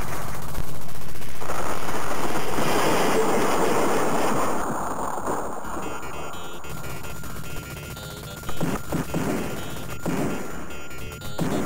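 Enemy gunfire from foot soldiers in an arcade shooter game, a loud continuous roar of machine-gun fire and blasts that later thins into scattered bursts and electronic effects.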